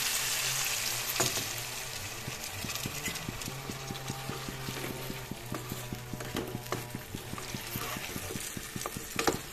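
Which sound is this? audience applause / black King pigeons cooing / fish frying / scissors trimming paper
fish frying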